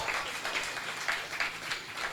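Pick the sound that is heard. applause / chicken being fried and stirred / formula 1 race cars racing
applause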